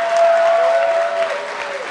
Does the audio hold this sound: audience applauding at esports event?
yes